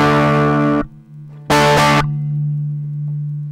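An electric guitar pushed through a heavily distorted amp with a dirty volume pot, buzzing chords cut off abruptly, a short gritty burst, then a sustained humming drone underneath, loud and close with no talking.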